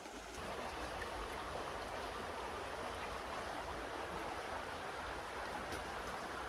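Water rushing steadily through a gold prospecting sluice outdoors, a dense, even wash with no breaks and no voices.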